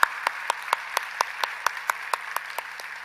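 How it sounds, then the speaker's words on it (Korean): Rhythmic unison clapping from a church congregation during a Friday service, about a dozen evenly spaced claps at a steady beat, moderately distant and fairly quiet. "우리 한번 일어나시면 크게 한번 더 박수하겠습니다"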